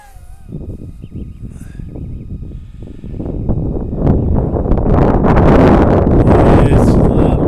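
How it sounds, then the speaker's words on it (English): Strong gusty wind buffets the microphone at an open flying field in Atlantic County, New Jersey, rising from a rough rumble to a loud, sustained roar, with a faint high whine in the first seconds. "It's a little bit too windy."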